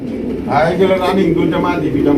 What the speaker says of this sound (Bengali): চমৎকার একজোড়া মুন্ডি কবুতর আছে এটা হচ্ছে তার ক্রিম কালারের মুন্ডি কবুতর